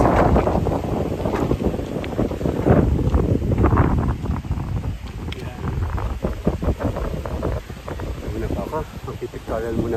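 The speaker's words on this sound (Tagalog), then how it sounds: "lakas ang hangin" Strong wind batters the microphone during an outdoor bike ride, producing loud, continuous rumbling buffets throughout.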